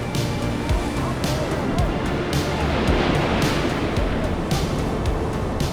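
River rapids rush past during rafting in an Indian valley, a loud, dense, unbroken roar of churning water with wind-like buffeting, close and steady throughout.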